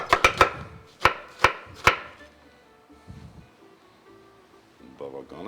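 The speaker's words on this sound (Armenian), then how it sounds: "երկար ենք կտրատելու" A knife chops onion on a board for a lamb dish, with sharp, close strikes in quick clusters of three, then a few softer cuts and faint rustling, with brief talk near the end.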